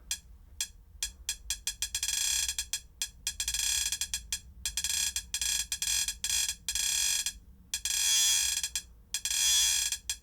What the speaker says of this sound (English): Cool, so just the hi-hat.